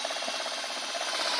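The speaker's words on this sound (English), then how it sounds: "You gotta hang on to the drill with 2 hands." A drill bores a hole through a house wall for a mini-split line, a steady grinding whir with a fast rhythmic chatter of the bit cutting through material.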